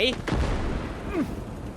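Artillery fires a heavy shot in the video game Call to Arms, Scorched Earth DLC, during the siege of Sevastopol: a loud, sharp blast early on with a rumbling tail, and someone talks over it.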